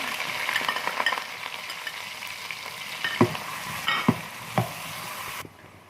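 Finely chopped onions sizzle and crackle steadily in hot oil, with a few louder scraping stirs toward the end before the sound drops off.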